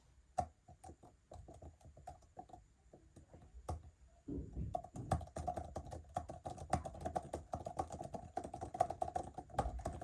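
Quiet, crisp key clicks tap out on an Apple Magic Keyboard for iPad, a low-profile keyboard, sparse at first, then a faster, denser run of typing.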